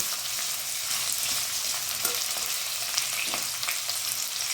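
Paneer cubes fry in hot refined oil in a pan for chilli paneer, giving a steady, dense sizzle with faint stirring clicks and no voices.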